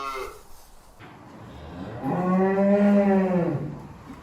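A Limousine-cross calf born to a Belgian Blue suckler cow lets out a single loud, drawn-out moo lasting over a second, close by, with quiet farm background around it and no talk.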